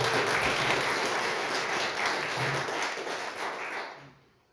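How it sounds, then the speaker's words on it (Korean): A crowd applauding steadily for several seconds at a National Assembly academic forum in Korea, the clapping tapering off and fading out at the end. "다시 한번 박수 쳐주시기 바랍니다"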